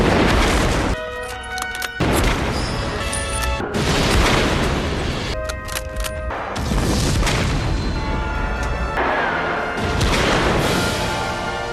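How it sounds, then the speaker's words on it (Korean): Heavy explosions and bursts of gunfire from a Stalingrad-set World War II sniper film come as repeated loud, broadband blasts. They follow each other in quick succession and sit close and dominant throughout. "폭발음에 맞춰"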